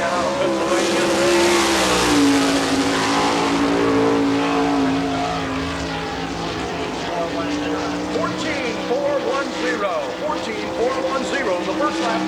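A sprint race car roars through a qualifying lap at Barberville speedway in Florida, its engine loud and sustained with a rising then steady pitch, while an announcer talks over it throughout.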